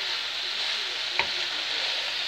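Cabbage and cucumber fry in a pan seasoned with black pepper, olive oil and apple vinegar, giving a steady, even sizzle with one brief clack of a utensil midway.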